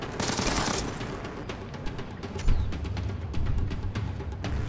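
Gunfire in the tactical shooter game Ghost Recon Blacklist, a dense run of sharp shots and bursts crackling over a low rumbling game backdrop, with louder impacts partway through.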